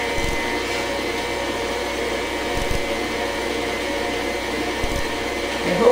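An electric mixer beats banana bread batter with a steady, moderate motor whir. Faint knocks come through now and then as it runs.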